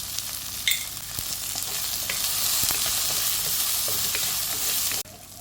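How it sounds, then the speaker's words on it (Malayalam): Onions sautéing in a pan for a prawn curry, with a steady bright sizzle throughout and a few light stirring clinks. No speech, and the sound cuts off abruptly near the end. "ഇട്ട് കൊടുത്ത ഉള്ളിയും എല്ലാം നന്നായിട്ട് ഇതുപോലെ ഒന്ന് വഴണ്ട് വരുമ്പോൾ"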